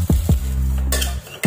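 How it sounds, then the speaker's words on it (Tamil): Metal spoon scraping and clinking against a pan as semolina (rava) is stirred and dry-roasted, a few close, sharp scrapes and knocks with a steady low hum beneath. "ரவையை லேசாக இதில் வறுத்துட்டு"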